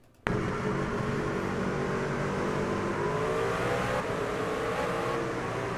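Several race truck engines in the iRacing sim at Rockingham roar loudly and steadily together, a sustained high revving drone with rising pitch sweeps as they accelerate, running continuously without talk.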